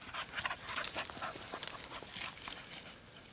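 A dog close by panting in quick, breathy bursts and shuffling about outdoors during a metal-detecting outing, an uneven rhythm of fast breaths and movement that tapers off near the end.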